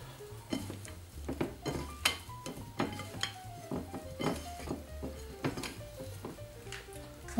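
Spiced lamb meat being mixed with coriander, cumin and cardamom in a bowl, with repeated clinks and scrapes of a utensil against the dish at an irregular rhythm under soft background music.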